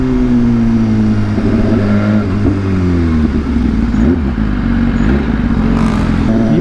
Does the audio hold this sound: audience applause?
no